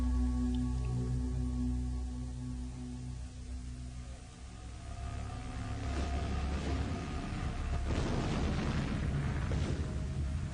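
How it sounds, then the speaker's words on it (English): A nearby explosion as an audiobook sound effect, heard over a sustained tonal backdrop; a low rumbling boom builds partway through and surges into a burst of debris-like crackle toward the end, with no speech. "Spock awoke from a pain-racked doze to the sound of a nearby explosion"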